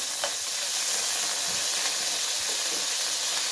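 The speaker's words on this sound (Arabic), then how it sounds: "وده طاسه فيها الزيت. هنعمل كله مع بعضه. هحط فيها معلقه توم كده" A spoonful of garlic frying in hot oil in a pan, a steady close sizzle and hiss with a few faint stirring scrapes, no voices.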